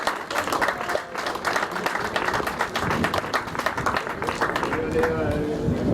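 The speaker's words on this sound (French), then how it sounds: "on peut l'applaudir s'il vous plaît" An audience claps steadily at the podium ceremony of the 2023 Tour des Landes cycling race, a dense, continuous round of applause at moderate distance with an announcer talking over it throughout.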